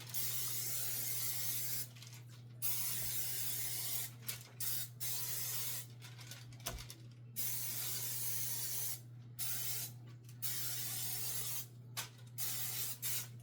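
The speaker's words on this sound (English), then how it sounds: "Make sure you spray them nicely." Several short hissing bursts of cooking oil spray, irregularly spaced, close by, over a steady low hum.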